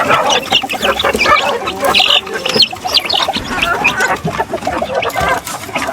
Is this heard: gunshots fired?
no